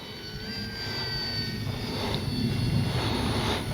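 An RC F4U Corsair warbird model plane on a 4S battery makes a high-speed pass into the wind, its electric motor and propeller a steady whine and buzz that builds slightly as it nears, heard alone at moderate distance.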